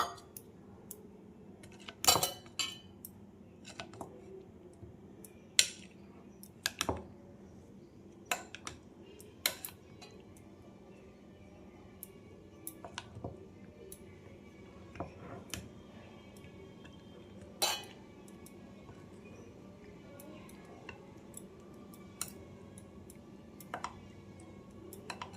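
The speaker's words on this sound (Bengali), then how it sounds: "এটা একটা ব্যাটার তৈরি করে নিচ্ছি।" Batter being mixed in a bowl for biryani, with sparse clicks and taps of a utensil against the dish at irregular intervals, fairly quiet and close, with no talking.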